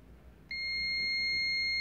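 A sudden sustained multimeter continuity-test beep, checking an Electrolux CM303 coffee maker's parts, starts after a brief quiet moment and holds at a steady high pitch, close and clear.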